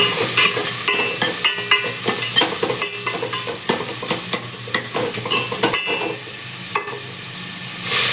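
Two medium onions frying and being stirred in a pot for dal khichdi, a steady close sizzle broken by repeated scraping strokes of a spoon, with no talk.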